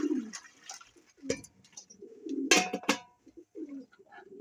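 A homing pigeon coos in low, throaty bursts at close range, with wing flaps and small clattering knocks breaking in between the calls.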